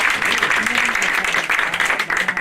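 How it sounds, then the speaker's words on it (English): A seated audience gives a steady round of applause for two invited guests, a thick continuous patter of many hands with faint voices beneath. "I'd like for us all to give them a round of applause."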